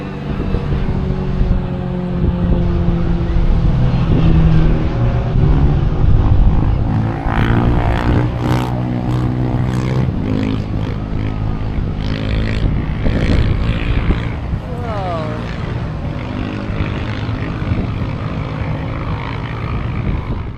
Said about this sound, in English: you can see small planes doing scary thrill rides along the packed beaches